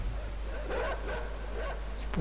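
Dogs barking in the video game Inside, a few separate yelps and barks spaced across a couple of seconds, moderately distant over a steady low background hum.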